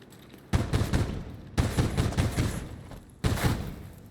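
Bursts of gunfire from a gun in a video game, three loud volleys of rapid shots about a second each, separated by short quieter gaps.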